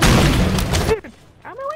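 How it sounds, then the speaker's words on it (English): A grenade explodes in Rainbow Six Vegas 2 on an Old Vegas co-op mission: one loud, broad blast that cuts off abruptly, followed by a shouted voice. "He just threw a grenade."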